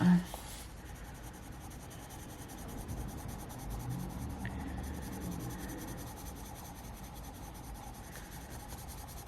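Ohuhu oil-based colored pencil rubbing steadily across paper, a soft continuous scratchy hiss close up, alone with no talk.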